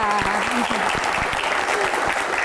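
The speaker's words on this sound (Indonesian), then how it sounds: "Boleh saya minta tepuk tangan yang paling meriah untuk 3 bintang tamu kita." An audience at a televised Q&A panel discussion applauds three guest stars, producing a full, sustained round of clapping with a faint voice briefly underneath.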